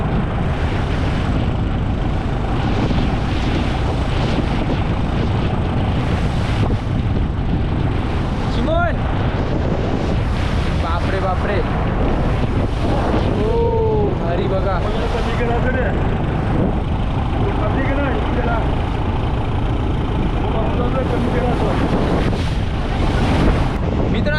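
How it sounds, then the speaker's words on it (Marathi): Strong wind buffets the microphone over a constant roar of open sea and surf aboard a deep-sea fishing boat, loud and unbroken, with occasional faint voices in the mix. "जबरदस्त वारा सुटला आहे"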